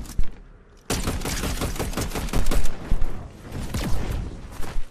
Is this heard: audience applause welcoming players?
no